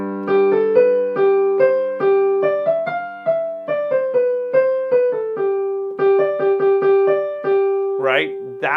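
Piano melody in mixolydian mode centred on G, moving mostly above that note in a steady stepwise line of separate notes, clear and close with no talking, ending with a brief vocal sound.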